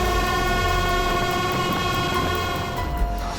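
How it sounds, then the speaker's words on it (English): A train rumbles steadily nearby with a deep low drone and sustained tonal horn-like hum, rolling continuously without talk. "Seeing the train approach, a mother bear quickly tried to protect her cubs"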